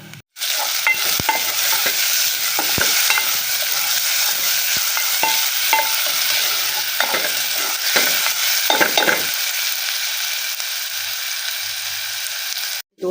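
Steady frying sizzle of onions and garlic in a hot pan, with occasional scrapes and clinks of a spoon stirring, continuous throughout with no talking.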